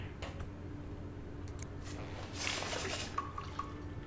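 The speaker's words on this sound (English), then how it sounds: "The water sounds, they happen when you shake it." Water sloshes inside a container as it is shaken in the horror video game This Bed We Made: a short, soft liquid swish over a quiet ambient background, followed by a few faint clicks.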